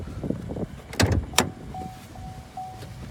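On a 2018 Chevrolet Camaro 2.0T, the trunk and hood are popped open, with two close latch clicks and thumps, then a thin mechanical whine, in a quiet setting.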